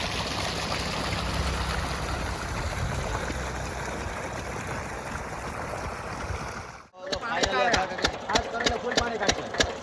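A steady water pump engine drones with splashing, flowing water for most of the clip, then cuts off abruptly and gives way to voices talking.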